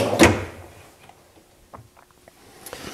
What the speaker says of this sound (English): Self-closing door